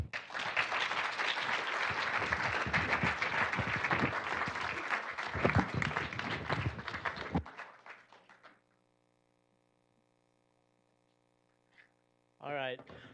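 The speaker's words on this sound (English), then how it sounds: "let's give another warm round of applause to all of our presenters here" Audience applause for presenters at a tech demo day, dense sustained clapping for about seven seconds before it thins out and fades to quiet, with a brief voice at the end.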